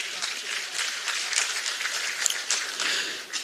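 An audience at a political party event applauds a former emergency committee chairman with steady, dense clapping that holds throughout, a few sharper claps standing out and faint voices mixed in.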